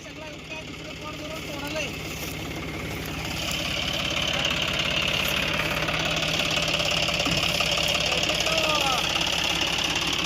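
A tractor engine idles nearby on a farm with a steady, throbbing knock, growing slightly louder midway, while people talk faintly in the background.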